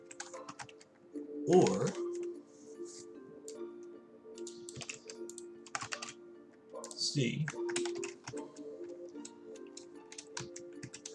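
Keyboard keys clatter in quick irregular bursts while someone writes game code for a top-down dungeon RPG, with someone talking over the typing.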